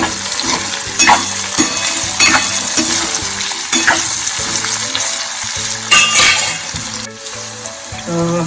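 Cooked kantola (spiny gourd) curry stirred in a pan, a steady loud sizzle with repeated scraping and clattering of a spoon against metal throughout.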